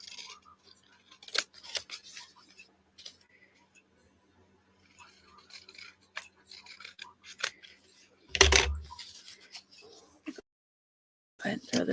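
Scissors snip paper for an altered book in a quiet room, with sparse close cuts and rustling, a louder handling burst near the end, and a brief pause before more paper noise.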